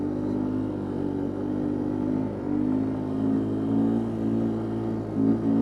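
A Yamaha 200 three-wheeler labours through snow in second gear, a steady, loud, close engine drone that holds nearly constant pitch with slight swells in load.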